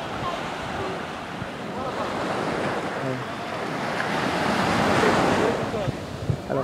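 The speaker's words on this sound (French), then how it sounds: "Alors quelques vagues." Ocean waves roll and break on Étang-Salé beach in Réunion, a broad steady wash that swells louder toward the end, with wind rumbling against the microphone.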